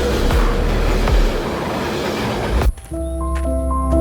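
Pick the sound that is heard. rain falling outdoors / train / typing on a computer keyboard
train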